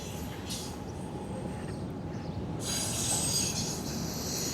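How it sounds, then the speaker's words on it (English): A train rolls past close by with a steady loud rumble, and the wheels squeal high on the rails, rising toward the end. A voice is heard briefly. "Let's take a picture of this train going by."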